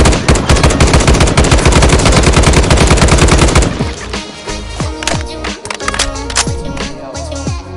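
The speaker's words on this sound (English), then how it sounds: "Sounds are layered in real-time, making each gunshot unique." Gunfire from a Fallout 4 tactical sound mod, layered with mechanical foley, a low thump and reflected tails. A loud, dense burst of rapid automatic fire gives way to slower single shots, each ringing out into a reverberant tail.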